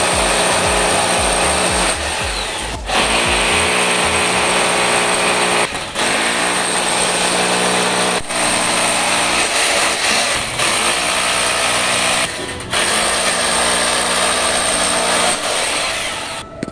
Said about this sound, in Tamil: மார்க் பண்ண இடத்துல 6 ட்ரில் போட்டு அந்த இடத்துல ஸ்டாண்ட் ஃபிட் பண்ண ரெடி ஆகிட்டு இருந்தார்.